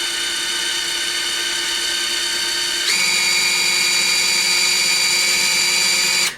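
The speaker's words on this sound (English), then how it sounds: "So we're going to start drilling right where we need to, just like that." A power drill bores holes into a zinc Weber 34 ICT carburetor from a VW, a loud continuous whine that steps up in pitch partway through as the bit bites, with no talk.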